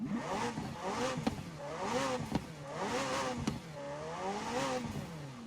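Automobili Turismo e Sport GT sports car in Forza Horizon 4 revving its engine repeatedly, each rev rising and falling in pitch with sharp shift clicks between them, loud and close with no talking.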